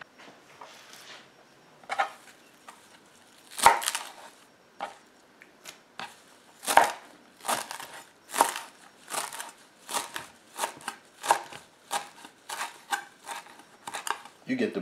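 A Ninja Foodi NeverDull knife chops cilantro on a cutting board in a series of sharp, irregular thuds and crunches that come faster toward the end, fairly close, with brief quiet gaps in between.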